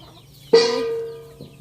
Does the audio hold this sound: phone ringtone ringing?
no